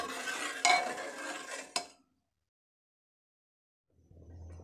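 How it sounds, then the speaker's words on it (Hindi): A spoon stirs sarson ka saag thickened with flour in a pot over low heat, scraping and clinking in short bursts for two seconds, then silence before faint clatter returns. "आटा डालने के बाद हम चमचे से इसे चलाते रहेंगे ताकि साग लगे ना नीचे"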